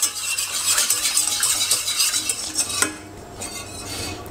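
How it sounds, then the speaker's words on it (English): A whisk scrapes and stirs in a pan as warm stock goes into a butter roux off the heat for a butter velouté. Steady busy clinking for nearly three seconds, then quieter, softer stirring. "you're gonna start by adding slowly your warm stock into your roux"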